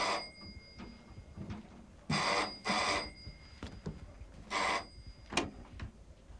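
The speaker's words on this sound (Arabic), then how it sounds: "تليفون عشانك يا فندم" A telephone rings in bursts, with several clear ring pulses spread across a few seconds, fairly close in a quiet room and with no talking over it.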